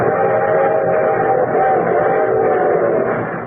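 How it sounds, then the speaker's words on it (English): A train effect opens a 1951 Railroad Hour radio broadcast, a loud sustained rumble with a blended whistle tone held for a few seconds without speech. "train."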